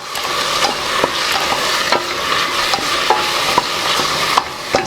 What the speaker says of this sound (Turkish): 1 tatlı kaşığı pul atacağım ve bunları güzelce karıştıracağım.